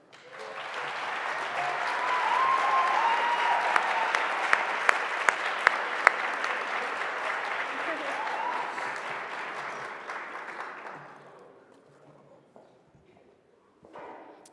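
An audience at an evening law school award ceremony applauds a speaker coming to the podium, a steady wash of clapping that swells, then fades to silence over about eleven seconds.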